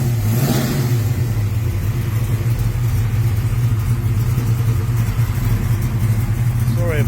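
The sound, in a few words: street car engine with hydraulic roller cam revving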